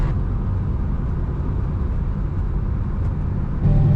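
A 1969 Chevrolet Camaro, abandoned for 30 years, driving on the road with a steady low engine rumble and road noise throughout, swelling slightly near the end as the engine note rises.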